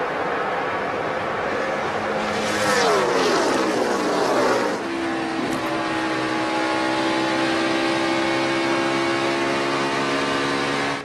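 NASCAR stock cars at the 2013 GEICO 400 roar past in a loud, fast pass-by with a sweeping pitch drop, then engines keep droning steadily in the distance.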